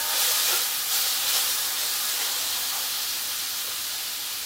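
Onions sautéing in a pan give off a steady, loud, close sizzling hiss that holds even throughout, with no talk over it.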